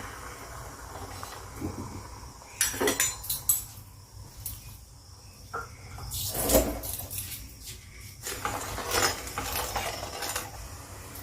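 Spoon stirring sugar and water together in a bowl to make syrup for chhanar malpoa, giving scattered light clinks and scrapes against the bowl, some closer and sharper, over faint room noise.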